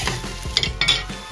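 A Spanish potato tortilla sizzles in a frying pan as it is flipped, a soft frying hiss broken by a few quick clinks of a utensil against the pan.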